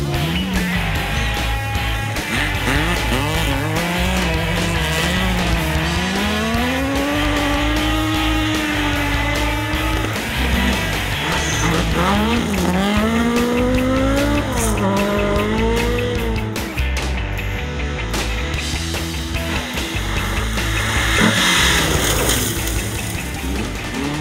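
Classic rally cars at the Otago Classic Rally 2015 race along a gravel stage, engines revving and wailing in rising and falling sweeps as they pass, loud and continuous, with tyres scrabbling beneath.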